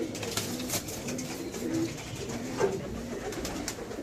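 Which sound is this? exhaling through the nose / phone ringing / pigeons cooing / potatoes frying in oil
pigeons cooing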